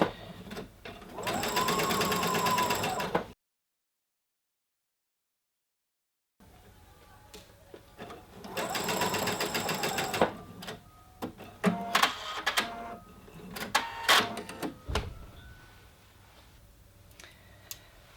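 A sewing machine tacks a fabric frill along a collar edge in two bursts of steady, rapid stitching, the first short and the second longer and more broken, with a silent gap between them and clicks of handling toward the end.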